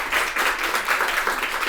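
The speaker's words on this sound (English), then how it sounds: "I really want to have you all give a big round of applause for Natalie from Substract" Audience applause at a web development talk, heard as a short burst of close, bright clapping from a room of listeners, even and continuous for under two seconds with no speech over it.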